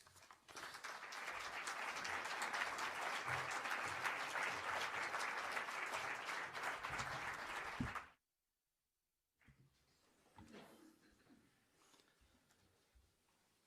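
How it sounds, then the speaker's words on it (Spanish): Audience applause at a Jehovah's Witnesses weekend meeting in a hall, a dense sustained round of clapping for about eight seconds that cuts off into silence, followed by faint room noise and scattered rustles. "Como bien te lo hemos expresado en aplauso, te estamos muy agradecidos"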